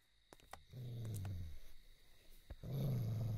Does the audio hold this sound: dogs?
yes